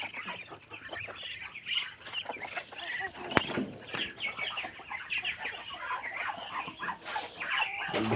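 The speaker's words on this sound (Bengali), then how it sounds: "দেশি মুরগি এবং চীনা হাঁস আছে, এখনো খোলা হয় নাই।" Native chickens clucking and calling on a farm where Chinese ducks are also kept, a dense chorus of overlapping clucks and cackles at close range with a faint background hum and a brief voice.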